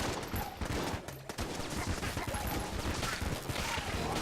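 Rapid Mega Hand gunfire in Enter the Gungeon, a dense run of loud overlapping shots blasting at walls, continuous for the whole stretch with a brief dip near the middle.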